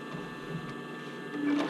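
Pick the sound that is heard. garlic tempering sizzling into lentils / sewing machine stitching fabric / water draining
sewing machine stitching fabric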